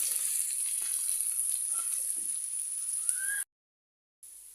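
Chopped garlic and onion fry in oil for a leafy greens dish, making a steady, bright, close sizzle that runs evenly, then cuts out abruptly near the end before briefly resuming.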